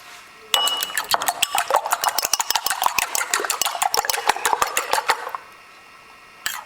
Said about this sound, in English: And just stir it up. Stir it up good